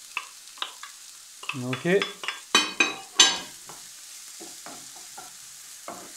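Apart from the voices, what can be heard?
onion frying in oil in a pan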